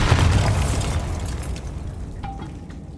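Bombarda spell explosion in Hogwarts Legacy: a loud, close, rumbling blast that fades gradually, followed by a brief faint tonal ring.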